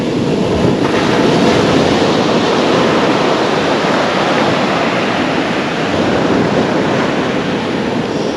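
Big rolling surf breaking onto a beach at Kilnsea on the UK coast, a loud, continuous wash of crashing waves with wind buffeting the microphone throughout.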